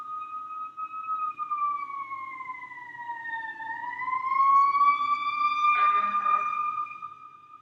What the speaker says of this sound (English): That was a fire engine.